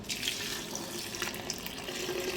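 Dhal cooking water poured from a vessel into ground spices, a steady splashing trickle of liquid close by, running continuously without pause.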